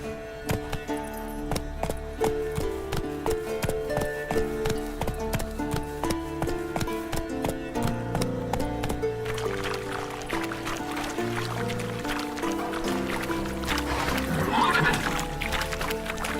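Geralt's horse Roach gallops in The Witcher 3: Wild Hunt, a steady run of rhythmic hoofbeats under the game's orchestral music, rising into a busier burst of movement toward the end.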